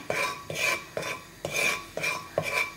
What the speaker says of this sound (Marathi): हें मीठ आमी आतां बरें भाजया